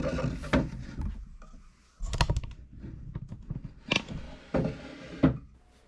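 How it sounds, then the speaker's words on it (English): A wooden end table drawer slides open and shut several times, each pass ending in a sharp knock, close and fairly loud with no talk. "we're gonna give the drawer a quick test"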